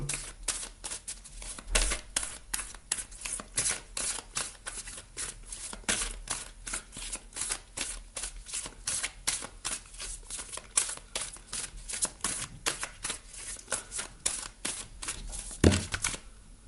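A deck of oracle cards of goddesses, gods and guardians shuffled by hand, with rapid repeated riffling snaps and flicks throughout, close and crisp, with no talking.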